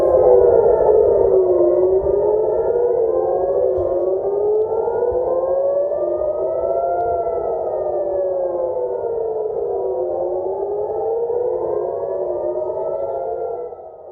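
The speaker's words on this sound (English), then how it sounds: "the Israeli army has said sirens were sounded across central Israel as it intercepted a missile fired from Yemen" Air raid sirens wail across central Israel during a missile interception, a loud sustained rising-and-falling civil defense tone with several overlapping sirens sweeping up and down, continuous for about fourteen seconds before cutting off.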